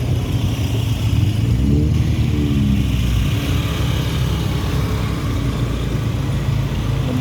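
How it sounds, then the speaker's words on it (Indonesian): Congested afternoon traffic near the Jam Gadang clock tower in Bukittinggi, with cars and motorcycles crawling past; a steady, close engine rumble runs throughout, with a brief rising rev of a motorbike near the start. "Lumayan macet di sini."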